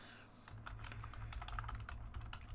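A computer keyboard clacks under fast, close typing, a rapid uneven run of light key taps over a low steady hum, with no talking.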